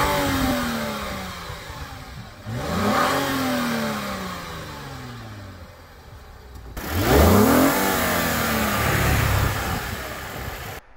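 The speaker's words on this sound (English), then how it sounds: "you do get dual exhaust, and this is what that sounds like" A 2015 Lexus IS 250 with dual exhaust revs up twice, the engine note climbing and falling in two loud, close sweeps over a steady idle rumble.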